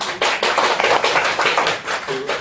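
A lecture audience applauds for the author Ito Mamoru at a Korean book-launch talk. The clapping is dense, close and steady for about two seconds, then thins out toward the end.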